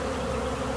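A honey bee swarm gives a dense, steady, close buzzing drone during a swarm catch, with no talk over it.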